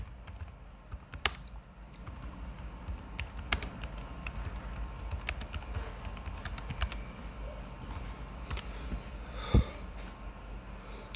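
Fingers tap on a computer keyboard in soft, irregular bursts of keystrokes, close and fairly quiet, with a few louder clicks scattered through.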